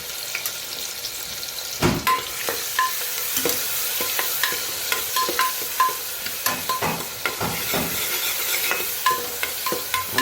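Onion, tomato, green chilli and garlic sizzle in hot oil during tempering, with a steady fry under repeated close scraping and stirring clinks of a spoon against the pan.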